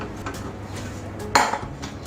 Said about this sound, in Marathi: आता आपण हे सगळं मिश्रण या ताटात काढून घेऊया गार होण्यासाठी पसरून ठेवूया